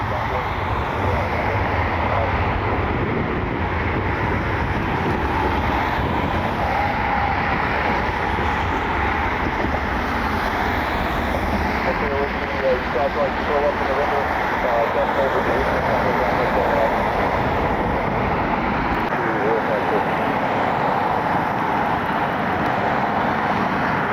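A Delta Air Lines Boeing 757 arriving from Boston produces a steady, loud jet roar at an airport, continuous throughout with little change in level, and no voices can be heard.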